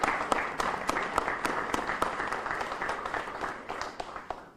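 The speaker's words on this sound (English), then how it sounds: "I'd like to recognize them right now with a round of applause." A room at a state officials' hurricane damage briefing breaks into applause for a response team, a moderate crowd clapping steadily at mid distance and slowly tapering off, with no talk over it.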